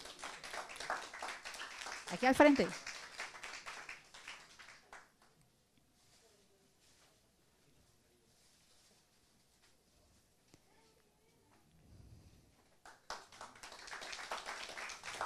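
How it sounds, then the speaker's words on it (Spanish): Applause for a girl receiving a prize at a children's award ceremony for a rights-themed painting contest, with dense clapping under a speaking host, a quiet gap, then clapping rising again near the end. "Un fuerte aplauso para Gabriela."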